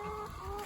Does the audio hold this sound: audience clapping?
no